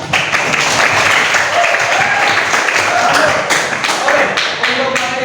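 Students clapping together in a classroom for a teacher's lesson, a dense, fairly loud burst of hand claps with scattered taps and thuds, continuing throughout with a few voices mixed in.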